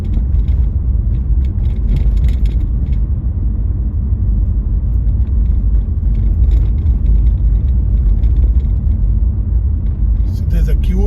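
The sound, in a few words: car moving off and driving on a road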